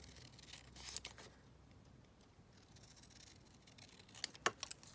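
Scissors snip through an index card in a quiet room, giving a few faint, crisp cuts at the start and a quick cluster of sharper snips near the end.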